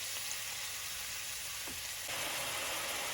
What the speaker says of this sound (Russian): В горячую сковородку закидываю добротный кусок топленого масла, затем насыпаю сюда весь лук и жарю его до золотистого